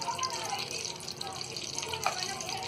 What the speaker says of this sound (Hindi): अब हम डालेंगे ये मटन के पीसों को